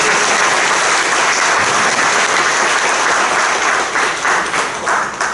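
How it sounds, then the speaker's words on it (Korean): Steady, dense audience applause fills a seminar hall at a church seminar, continuous loud clapping from a large crowd throughout with no pauses. "이한수 목사님 부부께 다시 한번 박수 드리겠습니다"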